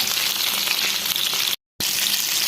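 Chicken pieces fry in hot oil in a pan, giving a dense, steady sizzle that fills the clip and drops out briefly midway before resuming.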